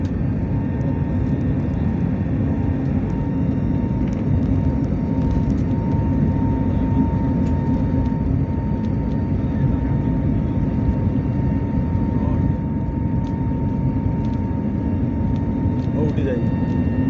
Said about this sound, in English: take off now.